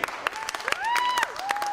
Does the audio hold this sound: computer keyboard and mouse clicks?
no